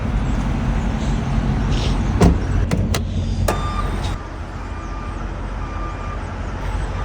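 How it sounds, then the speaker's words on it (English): Truck rolling through Houston, Texas traffic: a steady low road and engine rumble throughout, with a few brief sharp clicks and faint tonal whines over it. "If anyone was wondering what it's like to drive in Houston, Texas, here you go."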